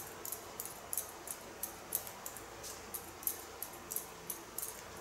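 Scissors snipping hair while cutting an ultra-short pixie haircut, a quiet close series of crisp irregular snips with faint rustling and no talk.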